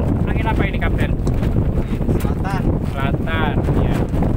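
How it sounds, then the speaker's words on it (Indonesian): Strong wind blows across the open sea aboard a fishing boat in the Sunda Strait off Tanjung Lesung, a steady, loud, buffeting rush that fills the whole clip while voices talk over it. "cuaca di sini sepertinya sudah mulai angin"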